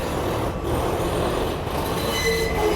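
An R160 subway train's trucks grind and squeal loudly on the rails of a New York D line, a continuous rough metallic roar with high whining squeals near the end.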